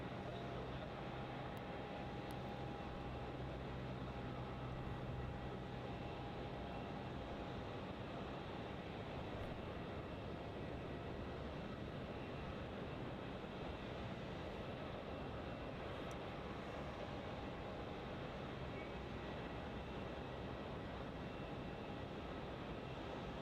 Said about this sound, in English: can hear that startup of that A350.